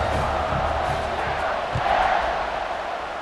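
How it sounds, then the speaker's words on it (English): A stadium crowd in the College Football 26 video game, Oregon versus Baylor, roars in a steady, dense wash of cheering and shouts, loud and continuous throughout the short stretch. "this crowd now ready to get behind them"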